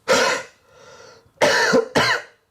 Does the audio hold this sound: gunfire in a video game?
no